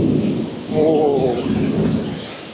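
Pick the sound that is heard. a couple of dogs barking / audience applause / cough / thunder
thunder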